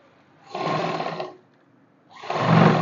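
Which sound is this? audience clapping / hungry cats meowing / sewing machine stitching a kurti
sewing machine stitching a kurti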